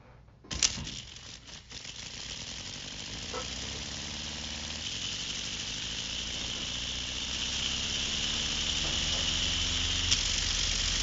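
A small Lego-built transmission and motor runs under engine braking, giving a steady mechanical whir with faint gear rattle that holds for about ten seconds after a brief clatter at the start.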